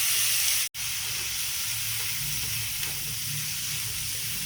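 Chopped tomato with chilli flakes, pepper powder and salt sizzles steadily in hot oil, a continuous close frying hiss with a brief dropout near the start.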